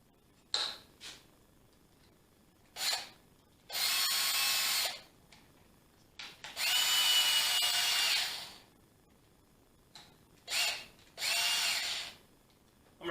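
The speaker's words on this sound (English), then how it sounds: "I'm going to drill a hole in here, which will allow me to" Power drill boring a hole into wood for a kid-friendly bird house, in several separate bursts: short stabs and longer whining runs of a few seconds each, close and fairly loud, with quiet gaps between.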